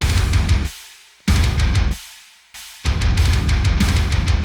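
A basic heavy groove with China cymbals crashing on every quarter note and a snare drum on beat three, over loud, dense music that cuts in and out in three sections, with no talking.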